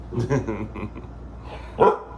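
A pet dog barks and gives gruff, growly yips at close range in a home, in a few uneven bursts with one louder bark near the end, over a faint room hum.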